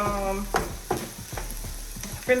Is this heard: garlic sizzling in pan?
yes